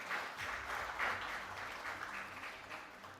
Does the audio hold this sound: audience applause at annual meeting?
yes